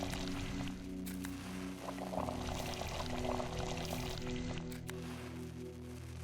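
Liquid pouring steadily while tinctures are mixed in Pathologic 2, a continuous close splashing trickle over a low hum, with no talking.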